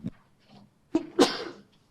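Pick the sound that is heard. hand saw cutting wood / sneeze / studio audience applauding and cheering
sneeze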